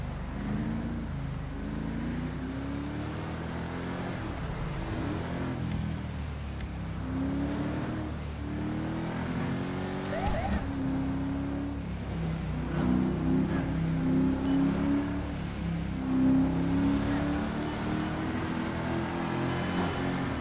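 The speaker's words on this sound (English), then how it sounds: "Charger sounds so good." A Dodge Charger police car engine in GTA V drones and revs steadily through shifting gears, a continuous mid-loud rumble with rising and falling pitch sweeps and no talk.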